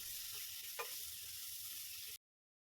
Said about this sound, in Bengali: আদা রসুন বাটা, হলুদ গুঁড়ো, লঙ্কা গুঁড়ো, জিরে গুঁড়ো, ধনে গুঁড়ো দিয়ে ভালো করে কষিয়ে নিচ্ছি।